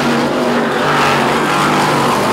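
Loud, continuous roar of a BriSCA F1 stock car engine racing past on an oval track, a sustained dense drone without a break.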